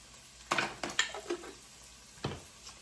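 Minced garlic goes into a soup pot with a few soft scraping stirs and light sizzles, spaced out and moderately close over a faint background.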